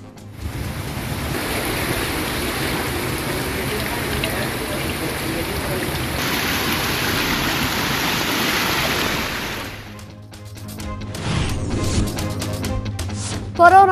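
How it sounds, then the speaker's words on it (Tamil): Heavy rain falls as floodwater streams along roads in Kerala, a loud, continuous rushing wash for about ten seconds that then fades into music. "கேரளாவில் கொட்டும் கனமழையால் சாலைகளில் பெருக்கெடுத்தோடும் வெள்ளம்."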